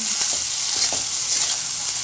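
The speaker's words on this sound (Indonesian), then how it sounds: "Aduk sebentar aja sampai daun bawangnya layu." Martabak egg filling with scallions being stirred in a hot pan, a steady loud sizzle with soft scraping strokes of the spatula running throughout, no voices.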